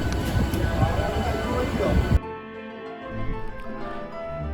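Doon Express rumbling into Howrah station, a loud broadband rush of rolling wagons that abruptly gives way to a quieter hum with faint station bustle and possible talk.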